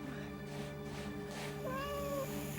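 A cat gives one clear, drawn-out meow, fairly faint, over a constant low hum, with no voices.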